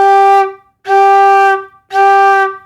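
Three low flute notes blown with a wide, low-range embouchure so each carries a buzzy, edgy tone, played close and loud with short gaps between, unaccompanied and with no talking.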